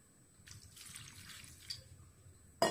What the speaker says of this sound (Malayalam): വെള്ളം ഒരല്പം കൂടെ ഒഴിക്കണം.